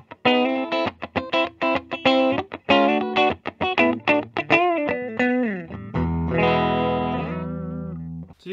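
A 2021 Epiphone 1961 Les Paul SG Standard electric guitar in the middle pickup position plays a quick, clean melodic run of plucked notes, up close, ending on a held, ringing chord.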